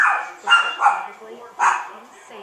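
A dog barks in a few sharp bursts, loud and close, with someone talking over and between the barks.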